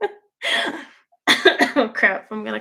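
A person coughs in several hoarse, throaty bursts with brief gaps between them, close and loud.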